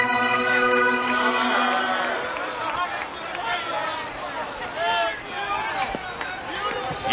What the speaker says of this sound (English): listen to the roar of the crowd as the Indians take the field